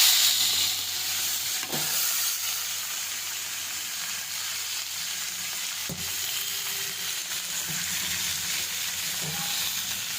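Potatoes, panch phoron and green chillies fry in a pan, a loud continuous sizzle and crackle with occasional stirring clinks and scrapes, close and steady throughout.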